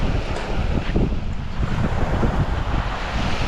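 Strong wind buffets the microphone on an open beach while surf rolls in the background, a steady loud roar with gusty low rumbles throughout, no voices.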